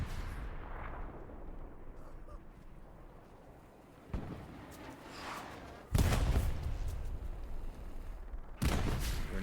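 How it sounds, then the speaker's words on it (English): Sharp grenade blasts and gunfire crack in a World War II style multiplayer shooter on the Mortain map, several distinct loud bursts spaced a couple of seconds apart over a rumbling battlefield background. "Grenades going off right in his face"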